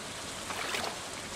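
Gently flowing river water in Stardew Valley, a steady soft rush of noise that swells slightly midway, continuous and fairly quiet with no voices.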